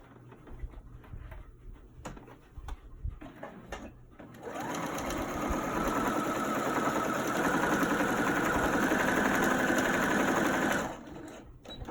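Sewing machine running steadily for several seconds as it stitches a quarter-inch seam on an ironed fabric mask, loud and close after a few quieter handling sounds at the start.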